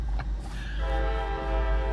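A passing train sounds a long, loud, steady horn blast close by, over the heavy low rumble of the rail cars.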